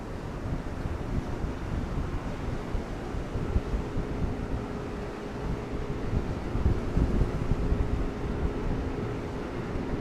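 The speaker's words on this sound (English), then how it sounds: "Windy" Steady wind at an outdoor boat show blows and buffets the microphone with a continuous low rumble, rising slightly in gusts.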